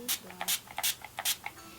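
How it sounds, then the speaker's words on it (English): Four short, sharp bursts of Victoria's Secret Make It Last Prime and Set makeup spray hiss close by, evenly spaced, with fainter sounds in between. "I'm using Victoria's Secret's Make It Last Prime and Set makeup spray"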